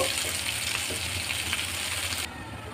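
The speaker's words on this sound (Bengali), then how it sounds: "পেঁয়াজটা গোল্ডেন কালার করে ভেজে নেব।" Continuous sizzle of chopped onions frying golden in oil, a bright crackling hiss that cuts off abruptly near the end.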